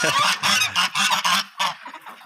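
Geese on a snowy farm honk loudly and close by in a rapid series of harsh, nasal calls, several overlapping bursts that thin out toward the end.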